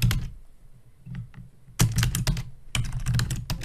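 Computer keyboard keys clatter in two quick bursts of typing separated by a short pause, close and clear with no voices, as a project name is entered.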